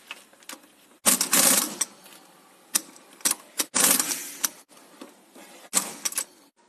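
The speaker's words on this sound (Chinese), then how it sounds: "把螺丝上紧。" Screws being tightened on a car alternator bracket, with bursts of ratchet-like clicking and scraping between quiet pauses, close and fairly loud.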